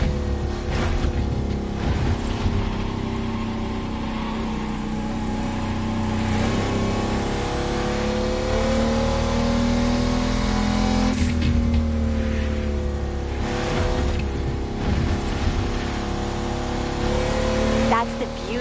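A GNX lowrider's engine revs and drones steadily in The Crew Motorfest, a continuous mid-pitched motor sound with rising and falling pitch, loud and close throughout.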